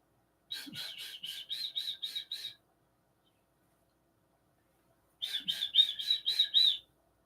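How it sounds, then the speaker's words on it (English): Two bursts of rapid, high chirping from a nearby bird, each a quick series of repeated tweets separated by a few seconds of silence. "The birds are out. The morning birds are out."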